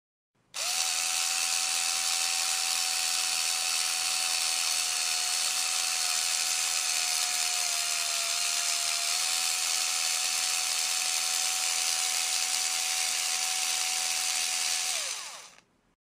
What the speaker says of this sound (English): To mix the ingredients, grab the mixer bowl and snap it to the automatic mixer.